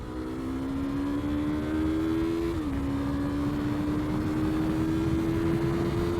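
A 2020 Yamaha R3 motorcycle engine revs as it accelerates, a steady droning whine that climbs in pitch, dips briefly at a gear change and rises again, heard close over road and wind rush.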